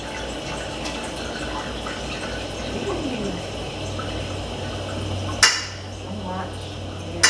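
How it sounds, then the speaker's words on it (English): Hot oil and fat poured off cooked meat in a pan for Filipino-style spaghetti sauce, a running liquid trickle with a sharp clank of the pan near the end. "We're draining out the oil."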